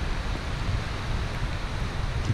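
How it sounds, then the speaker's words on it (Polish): A sudden, intense gust on a snowy winter mountain trail roars steadily against the microphone, a loud broadband rush with low buffeting and no voices, while a small stream flows somewhere nearby. "Patrzcie się, jaki przyszedł wiatr momentalnie."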